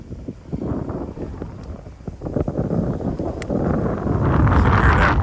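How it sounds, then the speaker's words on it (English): Wind gusting against the microphone while an Abu Garcia Pro Max reel is cast outdoors, a rough rumble that swells louder toward the end, with faint ticks and rustles from the reel and line. "You can hear that wind."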